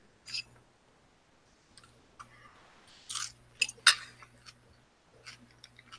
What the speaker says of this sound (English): I was chewing on chips